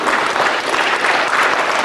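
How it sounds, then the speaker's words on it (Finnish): Audience at a tenth-anniversary gala applauding, a close, loud, dense burst of steady hand clapping that fills the whole moment without pause. "Aplodit Arnelle."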